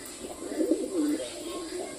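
A pigeon crossed with an Australian dove gives a soft, low coo of a few rolling notes close to the ear, against a quiet indoor background.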